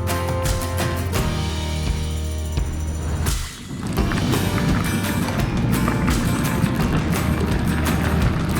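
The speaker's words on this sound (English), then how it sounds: "The washboard road and how bad an energy sapping it can be. This is an example." Bicycle rolling over a washboard gravel road on the Great Divide Mountain Bike Route, a steady loud rattling roar of tyres on corrugations with wind buffeting the microphone, briefly dipping before the juddering resumes.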